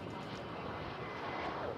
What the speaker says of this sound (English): That is American Flight 1832. That's on its way to Denver, that A321.